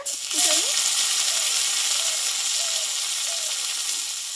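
Tomatoes go into a pan of already fried garlic and onion, setting off a loud, steady, hissing sizzle that holds throughout while a voice speaks faintly underneath.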